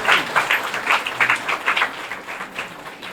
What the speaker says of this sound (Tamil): அவங்க 2 பேருக்கு நல்ல கைத்தட்டல்.